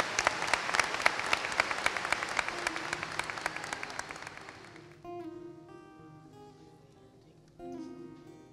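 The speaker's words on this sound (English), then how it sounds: "Ladies and gentlemen, please welcome them with a round of applause." A high school graduation audience applauds singers in a hall, dense clapping for about five seconds before fading as a piano and voices begin playing a song.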